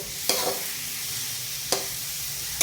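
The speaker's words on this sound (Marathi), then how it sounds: "बघा खूप छान असं परतून झाले मस्तपैकी तेल वगैरे सुटलेलं आहे" A spice mixture for a green moong amti sautés in oil with a steady sizzling hiss, broken by two sharp spoon scrapes against the pan, close and with no talk.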